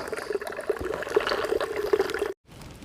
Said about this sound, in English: And I'm going to stop here and refill all my water bottles.